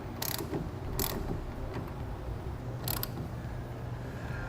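Clamps on a TruXedo TruXport soft roll-up tonneau cover being tightened down, giving a few sharp ratcheting clicks over a steady mechanical background rumble.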